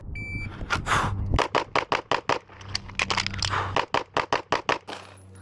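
A Canik TTI Combat pistol fires a rapid string of sharp, loud shots during a timed shooting run, opening with a thin electronic timer tone, then steady cracks with short gaps between them.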